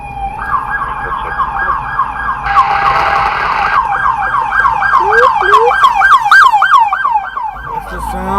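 A Los Angeles police car siren, loud and near, first a steady high wail, then rapid rising and falling yelp cycles over low traffic rumble.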